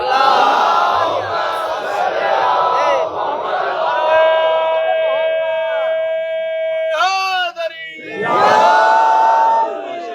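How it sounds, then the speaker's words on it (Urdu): A large religious gathering recites salawat loudly in unison, a roaring chorus of many voices that swells, holds long drawn-out notes, dips briefly, and then surges again close by. "بلند صلوات پڑھ لیجیے"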